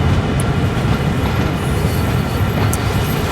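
Train rolling around Horseshoe Curve in Train Sim World 4, a steady loud rumble of wheels and carriage noise with faint rail squeal, continuous and close throughout.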